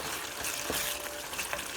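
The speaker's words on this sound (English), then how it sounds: "Waiting for the liquid content to evaporate a bit and the tomato to start frying up" Steady crackling sizzle of tomato frying in a pan for lamb curry, close and continuous, with faint stirring sounds.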